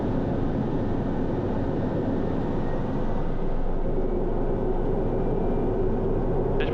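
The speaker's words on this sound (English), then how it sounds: "We're going to do a departure here out of Feville, runway 22." A Pilatus single-engine aircraft departs on runway 22 with a steady, loud broadband engine and propeller roar that holds constant throughout, heard from inside the aircraft.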